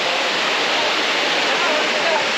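Steady, dense roar of Mangalam Waterfalls in Pachamalai, India, loud and close, with no breaks across the whole stretch.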